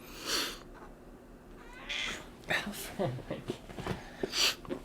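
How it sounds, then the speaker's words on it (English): A cat meows several times, the cries loud and drawn out, mixed in with someone talking nearby in a quiet room. "The cat is so loud."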